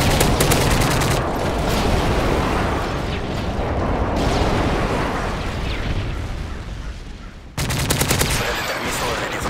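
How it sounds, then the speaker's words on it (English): Airstrike explosions in Modern Warfare 3 gameplay, a dense, loud barrage of blasts and rattling gunfire that stays continuous. It briefly drops off and then bursts back with a sharp metallic rapid-fire burst. "Friendly airstrike on the way."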